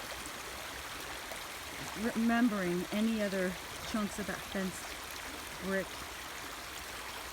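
A river flows steadily as a soft, continuous rushing wash throughout, with someone talking over it partway through.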